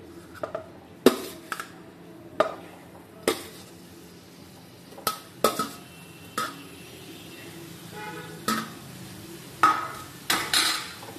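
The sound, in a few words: mashing boiled pumpkin in a pan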